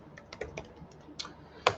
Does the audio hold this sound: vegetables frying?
no